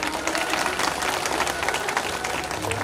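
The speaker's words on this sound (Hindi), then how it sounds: "प्रस्तुति पसंद आई हो तो जोरदार तालियां बजाइए" Continuous applause from an audience after a stage performance, a busy wash of many hands clapping at moderate loudness with no pause.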